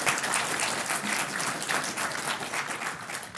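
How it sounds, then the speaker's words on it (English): At a Zephyr developer summit session in Seattle, a conference audience claps in a dense, continuous burst of applause, fairly close and even in loudness throughout. "let's give him some applause"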